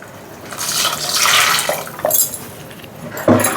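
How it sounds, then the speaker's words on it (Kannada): Water poured into a pot for sambar, about three quarters of a litre, a close splashing gush that swells and fades in uneven surges, with a couple of brief knocks against the vessel. "ಇವಾಗ ಒಂದು 3/4 ಲೀಟ್ರ್ ನೀರು ಹಾಕ್ಕೊತಾ ಇದ್ದೀನಿ."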